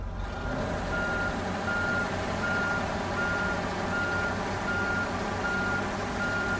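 Truck reversing beeps from the video game Snowrunner, a steady repeating beep pattern running throughout over a constant engine drone, with no talk.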